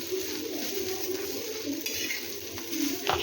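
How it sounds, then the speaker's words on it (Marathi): Green chilies, garlic and ginger frying with roasted onions in a pan for a spicy chicken curry, a steady moderate sizzle with occasional soft stirring scrapes and a light clink near the end. "आता यावर आपण हिरव्या मिरच्या लसूण अद्रक हे टाकून घेऊया आणि कांद्यासोबत हेही छान असे फ्राय करून घेऊया"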